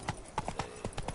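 Horse hooves clip-clopping in a quick galloping rhythm in The Witcher 3 on PS4, several sharp close hoofbeats in rapid succession with no talk.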